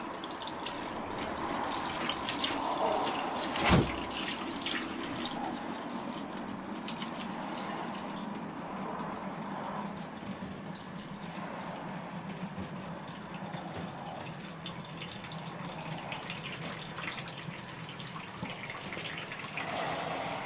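Acid poured from a jug while recovering gold from RAM sticks, draining out in a continuous soft trickle and splash with a brief sharper clunk early on, fairly faint and steady throughout.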